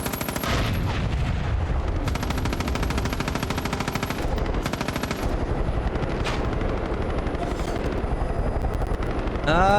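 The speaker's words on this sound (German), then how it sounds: "wer schießt denn noch auf mich?" Sustained automatic gunfire rattles almost nonstop in Far Cry 5 combat, dense rapid bursts over a steady rotor-like drone, loud and close, broken only by brief pauses.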